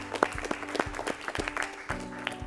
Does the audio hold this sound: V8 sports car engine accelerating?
no